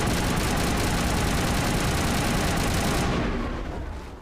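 Sustained automatic assault rifle fire from the Mass Effect Legendary Edition game, a dense, loud, unbroken burst of rapid shots for about three seconds that then cuts off, leaving a fading tail, with no voices.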